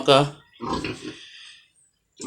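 A heavily pregnant, overdue sow gives short grunts at close range, separated by brief pauses.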